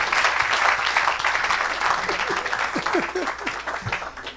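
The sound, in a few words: congregation applauding and acclaiming the Lord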